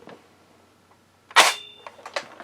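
A Tin Can Alley toy rifle from Ideal Toys misfires with one sharp, bright crack, followed by a short ringing tone and a few fainter clicks in an otherwise quiet room.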